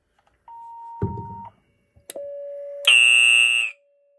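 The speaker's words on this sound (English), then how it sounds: "I'm going to show you an activation with this klaxon up here" A klaxon alarm set off by a Station Alert Controller SA812+ sounds one short cycle: a brief steady tone and a burst, then a loud sustained blaring horn that runs for about a second before cutting off.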